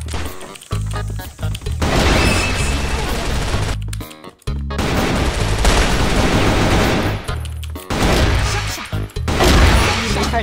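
Rapid gunfire bursts from the first-person shooter CrossFire, dense loud volleys and single impacts nearly continuous, with two short gaps, and no talking heard over the shooting.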